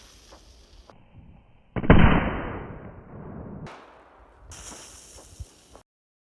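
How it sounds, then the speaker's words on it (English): A firecracker goes off inside the cabin of a scale Mercedes W140 model car, one sharp loud bang followed by a hissing, crackling decay, with softer rustles and clicks before and after. "Let's now set up the firecracker inside the cabin and blow it up from the inside."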